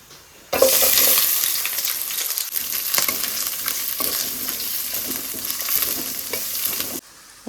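Onions and other masala puri ingredients hiss and sizzle steadily in hot oil in a pan, a loud continuous fry with stirring scrapes, starting abruptly and cutting off near the end.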